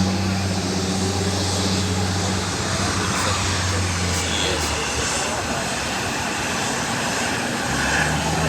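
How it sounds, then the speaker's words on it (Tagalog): An airplane taxiing at an airport gives a steady, droning engine hum with a constant low rumble, fairly close and continuous throughout. "May isang aeroplano na nagtataxi."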